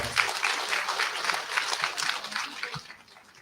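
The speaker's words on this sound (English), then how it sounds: "Let us give Dr. Bautista and Dr. Topacio a round of applause." Applause from an audience at a college commencement ceremony, a moderate wave of many hands clapping that holds steady for a few seconds and then tapers off quietly.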